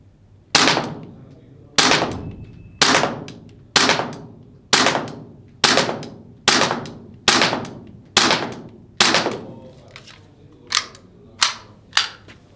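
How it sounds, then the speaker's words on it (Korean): A Tokyo Marui Glock 17 Gen5 MOS airsoft pistol fires a string of sharp, close, evenly spaced shots at about one per second, with the last few coming a little faster, and no voices. "똑같이 열 발을 사격하겠습니다"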